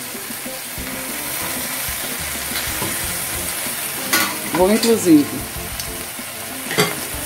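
Beef chunks searing in a pan for a braised beef and cassava dish, a loud continuous sizzle with brief clinks and scraping as the meat is moved; a voice speaks briefly.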